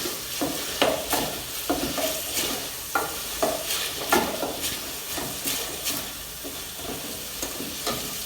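Grated onions and tomatoes for pork gravy cook in a pan, hissing softly while a spoon stirs through them in regular scraping strokes.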